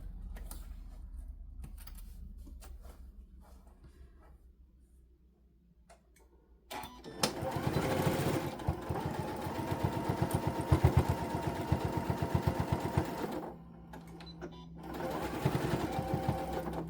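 Soft ticking gives way to a sewing machine stitching steadily up close, a rapid mechanical whir that stops briefly and then starts again.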